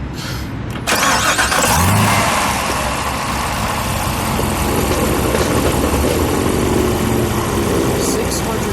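A 650-horsepower 2017 Chevrolet Camaro ZL1 engine cranks and fires with a loud burst, then settles into a steady, smooth idle that continues at an even level.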